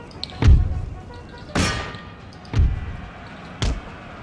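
Artillery firing in the strategy game Empire: Total War, heard as four separate booming thuds spaced about a second apart, each with a short decaying tail, moderately loud and with no talk over them.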